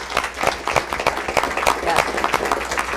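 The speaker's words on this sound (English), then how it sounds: "Let's give a round of applause to our panelists." Audience applause for panelists at a transportation speaker series, a steady patter of many hands clapping at moderate volume, with some voices mixed in underneath.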